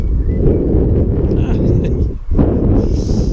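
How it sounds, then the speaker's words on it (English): Strong outdoor wind buffets the microphone during a drone flight test of a WLToys Q333, a loud, continuous low rumble with a brief dip, steady and close. "Oh, the wind is now picking up a little bit"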